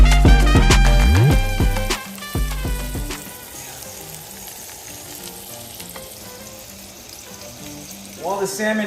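Salmon sears in a pan of hot oil with a steady sizzle and crackle, and sharp utensil clinks and knocks ring out near the start and again at the end.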